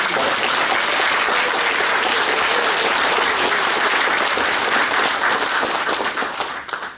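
Sustained audience applause at a political rally in Chuncheon, dense and steady clapping filling the whole stretch before tapering off at the end.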